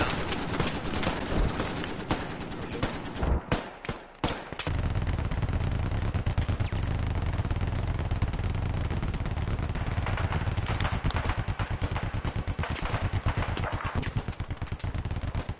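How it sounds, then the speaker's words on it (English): Sustained suppressing gunfire in the Squad military shooter: rapid, continuous automatic rifle bursts rattling close and loud, broken by a brief pause before the firing resumes steadily. "Charlie, stay and lay down suppressing fire."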